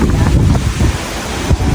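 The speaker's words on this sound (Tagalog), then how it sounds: "Malakas na rin naman yung hangin." Strong wind at a resort in the Maldives buffets the microphone in a steady low roar, with gusty surges throughout and no voices.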